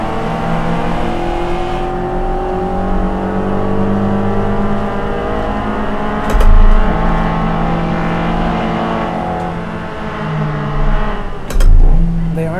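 Spec Miata race cars at Harris Hill in a VR racing game: loud, close simulated engine drone from several cars running on together, with steady engine tones that swell in brief louder bursts as the pack accelerates on the first lap.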